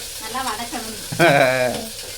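Food being stirred and fried in a pan for a fenugreek rice dish, a soft steady sizzle with scraping strokes that swell louder partway through, close and with no talk.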